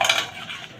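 A spoon scrapes and clinks against a pot while flour is stirred into melted ghee, making a short run of metallic taps and scraping that is loudest at the start and then fades.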